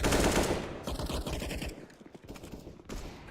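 Rapid automatic gunfire rattles through a Counter-Strike match, dense bursts packed together at first, then thinning into scattered, sharper single shots.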